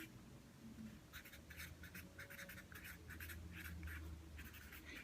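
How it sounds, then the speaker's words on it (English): Pen scratching across paper while a web link is written down, a series of short, close strokes in bursts with brief gaps, heard alone over faint background noise. "Let me write it down."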